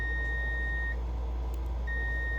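A steady electronic beep from a multimeter continuity tester sounds twice as the probes touch, breaking off for about a second in between, over a low hum with no talking.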